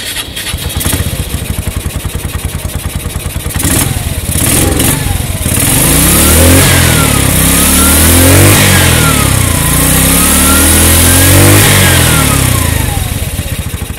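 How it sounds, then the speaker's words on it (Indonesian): A Piaggio Ape City three-wheeler with a 200cc four-stroke petrol engine starts up close by, then settles into a rough idle and is revved repeatedly in rising and falling loud bursts, with no talking. "Pertama-tama tentunya kita pengen startup dulu untuk ngeres suaranya kayak apa sih dari mesin 200 cc 4 taknya itu."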